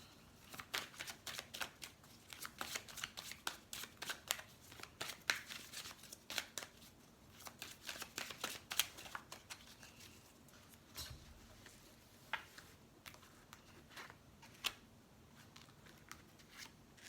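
Tarot cards being shuffled, a long run of quiet, crisp riffling and slapping card sounds in irregular bursts, close and faint, with no voice over them.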